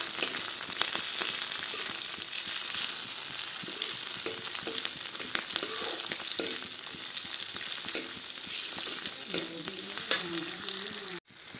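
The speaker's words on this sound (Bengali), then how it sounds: "যিখিনি কাটি লোৱা ডাঙৰ ডাঙৰ তাত বহাই দিছোঁ পিঁয়াজখিনি এনেদৰে তাতে মই ভাজি ল'ম" Large chopped onion pieces frying in a pan, a steady dense sizzle with occasional stirring scrapes, close and loud throughout, no talking.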